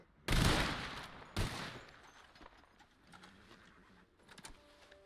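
A volley of gunfire rings out on command in a Wild West roleplay video game, two loud sharp blasts close together followed by fading echoes and scattered softer shots.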